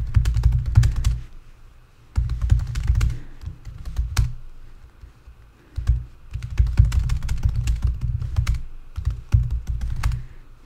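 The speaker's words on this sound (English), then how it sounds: "And we're just going to type the question" Someone types a question into a survey form on a computer keyboard, with steady bursts of key taps and short pauses between phrases, close and fairly loud, with no talking.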